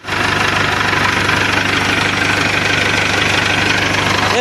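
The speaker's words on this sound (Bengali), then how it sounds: "ইঞ্জিন স্টার্ট করবো।" A car engine idles loud and steady right after an AC pump has been fitted, with a constant close mechanical rumble and a faint knocking rattle and no talk.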